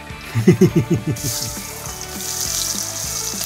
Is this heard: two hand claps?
no